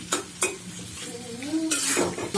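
Chopped tomatoes stirred in a frying pan with spices for a Bengali tilapia tomato curry, giving scraping clatters and a soft sizzle, with a couple of sharp utensil knocks near the start.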